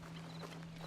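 Horse hooves clip-clop at a walk in the Western video game Red Dead Online, a quick faint run of hoofbeats over a steady low hum.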